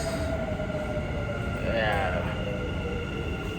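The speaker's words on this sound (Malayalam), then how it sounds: "മെട്രോ പോയി, ഒരു മെട്രോ പോയി, അടുത്ത മെട്രോ ഗൈസ് അപ്പോൾ വരും." Steady rumble of a Dubai Metro train running past, a rising whine swelling in the middle, with people talking over the continuous noise.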